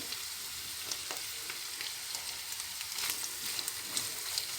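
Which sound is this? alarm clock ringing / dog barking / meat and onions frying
meat and onions frying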